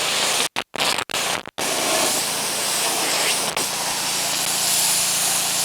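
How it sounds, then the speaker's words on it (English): A pressure washer with a green tip sprays down a 1983 C10 truck, a steady close broadband hiss that cuts out briefly a few times early on, then runs continuously. "I'm gonna just spray the truck off. I always use a green tip"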